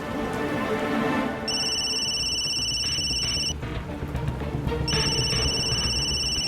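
A phone rings with an incoming call in a dramatic indoor scene. A repeating electronic ringtone sounds in bursts over steady background music, pauses briefly, then resumes, clear and moderately loud.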